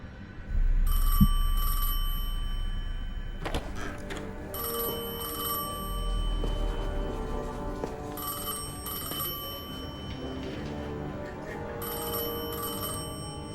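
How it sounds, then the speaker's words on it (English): An old telephone rings in the game Destiny 2 during a cutscene, with bursts of bright bell tones repeating in a steady pattern over a low rumble and swelling, pitched synth score. "I felt the ringing more than I heard it."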